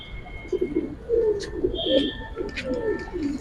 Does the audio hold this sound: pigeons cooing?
yes